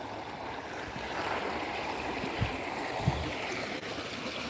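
Continuous rushing creek water flows steadily nearby, a broad soft wash with a couple of faint knocks.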